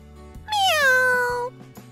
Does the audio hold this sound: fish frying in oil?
no